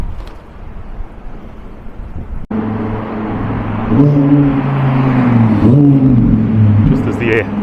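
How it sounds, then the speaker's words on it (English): An Audi R10 drives past a London hotel, its engine hum rising and swelling in the middle and later parts over a windy outdoor street, with a person talking over it. "Just as the Audi R10 drives past"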